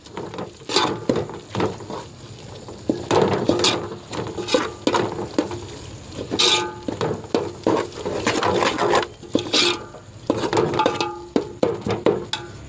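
Chicken gravy masala for a Chennai-style chicken gravy being stirred in a pan, with repeated close scraping and patter strokes in an uneven rhythm and no talking.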